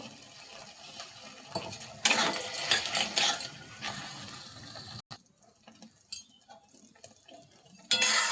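Tomato chutney with sugar stirred in a pan, giving bursts of wet scraping and clinking that come and go, louder in the middle, with quiet stretches between strokes.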